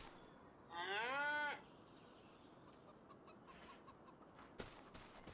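A cow lets out one long moo on a farm in the video game Krustoo Farms, fairly loud against a quiet backdrop, followed by faint scattered chicken clucks.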